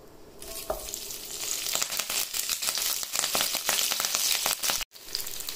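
Leftover spices from fish dropped into hot oil, a close, loud crackling sizzle that flares up and continues with sputtering pops before a brief break.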